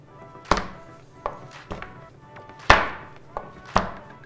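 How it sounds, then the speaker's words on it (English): Chef's knife chopping through a bar of chocolate on a board, sharp separate thunks at an uneven pace, about seven cuts, close and fairly loud with no talk. "To start my chocolate covered pretzels, I'm going to chop up the chocolate."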